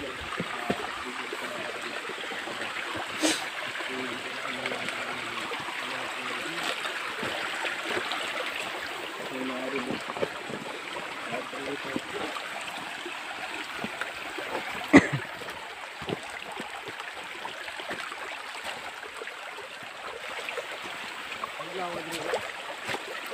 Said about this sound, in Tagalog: Napakaganda ng ilog nito.